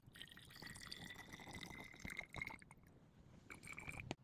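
Water, 250 milliliters, poured into the tank of a SilverCrest handheld steam cleaner, a steady close trickle with small drips and splashes, no talk.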